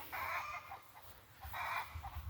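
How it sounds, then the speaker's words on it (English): A neighbor's chickens cluck from across a garden, two short bursts of clucking a little way off over a quiet outdoor background. "That's the neighbor's chickens over there."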